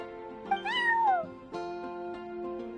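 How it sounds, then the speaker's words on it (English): A cat meows in the video game Genshin Impact during a Snowbound Journey event scene. A single clear, rising-then-falling meow sounds close, followed by soft sustained background tones. "I'm sorry, that's my neighbor's cat."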